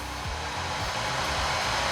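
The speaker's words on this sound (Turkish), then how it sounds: "Kesintisiz Saç kurutma makinem çalışmaya devam ediyor ve saç kurutma makinem de oldukça güçlü arkadaşlar" A powerful hair dryer runs steadily off a 6000W pure sine wave inverter UPS, a constant airy whoosh with a low hum, alone with no talk.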